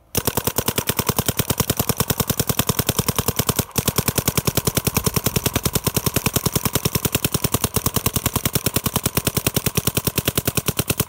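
A Revo Vanquish 2.0 blaster firing in sustained fully automatic bursts, a loud, rapid and very regular stream of sharp shots with one brief break, and no talk.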